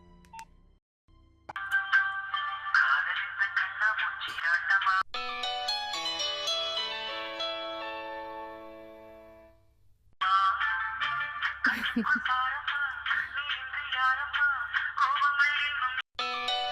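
A mobile phone ringtone plays loud and close in bright, repeating electronic melodic phrases, with a short pause between them before the tune comes back.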